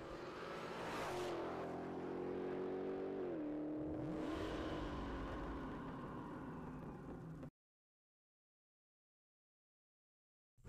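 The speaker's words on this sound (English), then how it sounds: "We hear a rev, we see a launch, and down the track it goes." Dodge Demon V8 drag car revving at the line then launching hard down the drag strip, a loud sustained engine roar with rising pitch sweeps and shifts, close and alone, cutting to silence near the end.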